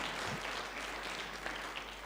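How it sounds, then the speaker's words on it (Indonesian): A church congregation claps together during a Yom Teruah worship service, a dense, even patter of many hands heard fairly distant and soft throughout the short stretch. "Ya, boleh beri tepuk tangan."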